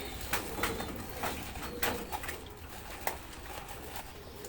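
Pigeons coo in soft, repeated throaty calls at moderate distance, with faint fluttering and other ambient noise between the calls and no talk.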